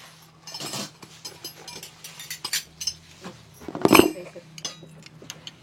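Metal kitchen utensils clink and clatter as they are picked up and set down, scattered light taps with one louder clang near the end.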